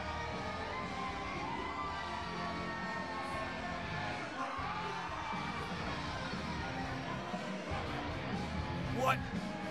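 Wrestling event crowd at Rumble in the Dot 2021 cheering and shouting steadily throughout, a dense continuous roar with a commentator talking over it.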